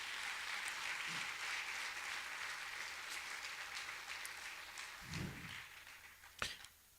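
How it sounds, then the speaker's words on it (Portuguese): A church congregation applauding, steady broadband clapping held at a moderate distance, with a couple of low thumps and a sharp knock near the end. "que a igreja aplaudisse pela vida do homem de Deus desta casa"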